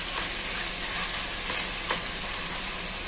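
Chicken pieces and mango fry in a pan with a dense, even sizzle, broken by a couple of soft clicks from stirring, no talk.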